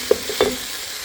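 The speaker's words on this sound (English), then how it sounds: "I'm going to add my garlic. Stir that in and cook it for" Garlic stirred into olive oil with onions in a pan, a brief close scrape and a couple of soft clacks over a faint sizzle.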